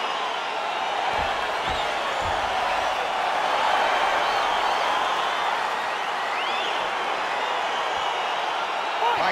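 Steady crowd roar and cheering from a simulated UFC 4 mixed martial arts video game bout, a dense, continuous wash of arena noise with no distinct claps or peaks, playing throughout.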